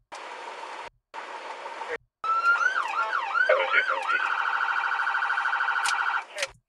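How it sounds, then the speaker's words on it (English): A police car siren at a Denver traffic stop comes in short bursts with gaps at first, then a loud wailing and yelping sweep, followed by a steady warbling tone that cuts off near the end. "I get to use my lights and siren"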